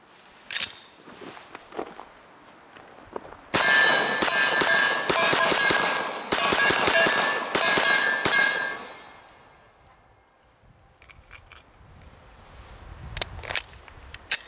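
A Sarsilmaz SAR-9 pistol fires 115 grain full metal jacket rounds in a rapid string of about fifteen loud, sharp cracks. The shots are packed close together, then fade into quieter handling sounds.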